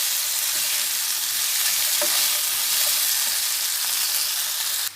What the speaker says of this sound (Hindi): पाँच से 6 मिनट आलूओं को और टमाटरों को भुनना है।